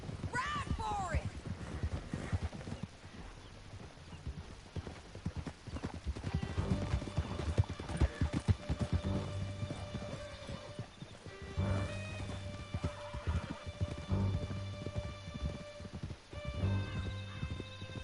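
Galloping horses in the Red Dead Redemption 2 video game, steady rapid hoofbeats running throughout alongside game music and intermittent shouted dialogue, with a brief whinny near the start.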